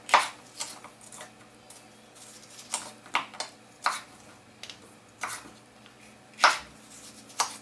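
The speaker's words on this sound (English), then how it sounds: "I'm just going to chop them into diagonals like that." A knife chops red and green capsicum into big diagonal chunks on a board, a series of crisp, spaced cuts with soft thuds at an irregular pace, close and fairly quiet.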